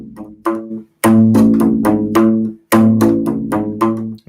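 A U-Bass plays short, plucked notes on its rubbery strings, deep and round. They come in a clear, loud, close sequence with brief silent gaps between the phrases.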